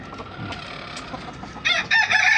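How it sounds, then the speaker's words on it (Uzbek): An ornamental-breed rooster crows loudly and close by, its call breaking out near the end after a few quieter clucks. "Mana hozirgi tashqarida yurgan xo'rozim."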